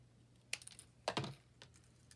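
Scissors cutting polka dot paper for a collage, two or three close, crisp snips spaced apart against a quiet background with faint hum.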